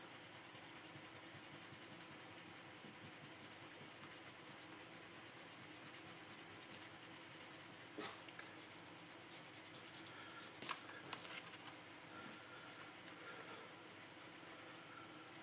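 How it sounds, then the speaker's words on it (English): An eraser rubs out HB pencil writing on paper, a steady close scratchy rubbing that runs throughout with a few sharper scuffs near the end, and no talking. "I'm going to erase, so how about if I just go ahead and erase what I've written on the top here"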